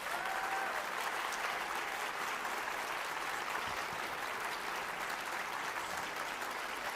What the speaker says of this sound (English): give you one last big round of applause